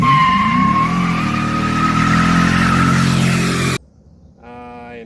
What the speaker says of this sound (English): after a very brief practice burnout session